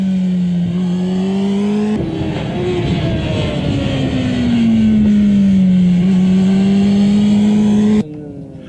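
A motorcycle engine accelerating out of a corner, a loud, sustained drone whose pitch dips and climbs again as the throttle comes back on, close and continuous before cutting off abruptly near the end.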